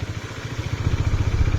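A Husqvarna Svartpilen motorcycle engine runs while being ridden, giving a steady low, pulsing throb with mechanical clatter that grows slightly stronger toward the end.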